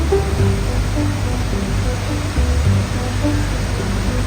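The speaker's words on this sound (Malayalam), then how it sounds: "ആ വെള്ളം താഴേക്ക് പതിക്കുന്നതിൻ്റെ ശബ്ദം" Athirappilly waterfall in Kerala, a large falls, roars as water crashes down in a dense, continuous rushing wash, loud and steady, with a faint low hum underneath.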